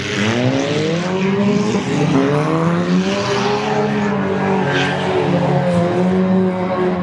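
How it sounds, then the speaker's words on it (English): Modified cars race around a dirt oval at a demolition derby in Ludington, Michigan, their engines droning loud and steady in overlapping revving tones throughout. "We are on our final lap of heat number 2 modifieds, coming around out of turn 2"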